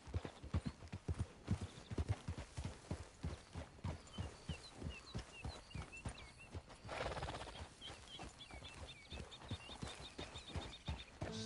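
Horse hooves clip-clopping at a steady riding gait in the video game Red Dead Redemption, a continuous rhythmic beat close by, with a horse whinnying midway and faint bird calls in the background.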